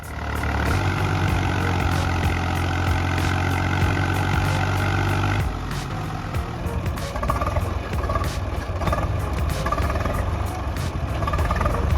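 A tractor engine labours hard while stuck in mud, a loud continuous rumble that holds steady and shifts in tone midway as the load changes.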